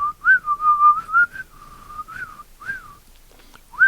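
A man whistles the melody of a song, clear and close, with several sustained wavering notes, a brief pause, then one more rising note.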